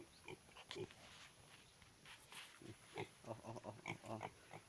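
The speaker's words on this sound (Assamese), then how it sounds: "মই গাহৰি পোৱালি আনিলোঁ বাৰু। এয়া মোৰ পোৱালি।" Piglets on a pig farm in Assam grunt and squeal in short, irregular bursts, faint and fairly close, with the grunts growing busier toward the end.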